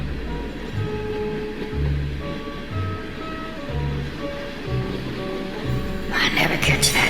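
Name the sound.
train sound effect in old radio drama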